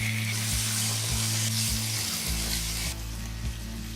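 Onions and tomatoes sizzle in a frying pan with a steady bright hiss, punctuated by a few regular low thumps and a brief burst of stirring near the end.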